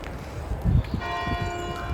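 A church bell tolls in a churchyard near a grave: one clear ringing strike whose tone lingers and hums over faint outdoor background noise.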